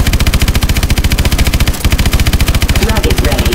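A mech's main gun in Call of Duty: Advanced Warfare hammers out rapid, evenly spaced heavy shots, loud and close, with a brief break near the middle before the relentless automatic fire resumes.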